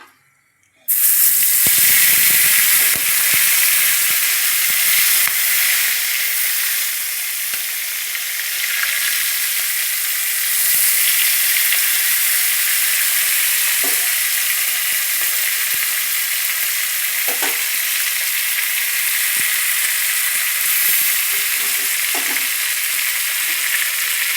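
Prawns coated in salt and turmeric hitting a hot wok, with a loud, sudden burst of sizzle after a brief quiet, settling into a sustained hiss with a few faint stirring taps.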